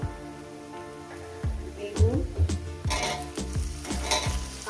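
Mourala fish with greens and eggplant sizzles in a pan, with crackling hiss, stirring scrapes and a few sharp utensil knocks, growing busier midway while a faint background tone hums beneath.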